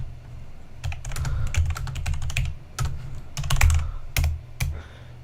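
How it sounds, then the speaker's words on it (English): Quick bursts of typing on a computer keyboard picked up by a desk microphone, clustered keystrokes with short pauses and a low thumping resonance from the desk under each tap. "you can actually hear my keyboard pretty well"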